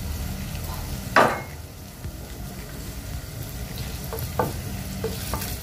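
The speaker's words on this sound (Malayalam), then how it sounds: "അതിലേക്ക് നമ്മൾ കുറച്ച് ഇഞ്ചി വെളുത്തുള്ളി ഇട്ട് ഇളക്കണം." Ginger and garlic fry in hot oil for chilli paneer, a continuous low sizzle with a sharp scrape of stirring near the start and a few lighter stirring knocks later, no talk.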